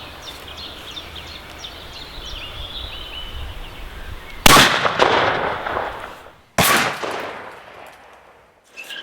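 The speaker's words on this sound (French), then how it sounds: "je vais d'abord tirer le premier coup avec la première détente" A Sabatti over-under shotgun loaded with number 7 cartridges fires at a target 30 metres away, two loud sharp shots a couple of seconds apart, each trailing off in a long echo after quiet outdoor ambience with birdsong.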